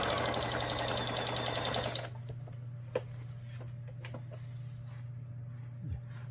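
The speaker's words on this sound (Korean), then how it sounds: "직선 바느질 정상적으로 작동되고 있습니다" A sewing machine runs a straight stitch in a loud, steady mechanical whir for about two seconds, then stops, leaving a few scattered clicks and small handling sounds.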